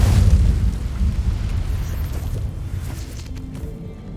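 A fire spell cast in Hogwarts Legacy bursts into a loud, low booming blast at the start, then rolls on as a rumbling roar that slowly fades over several seconds.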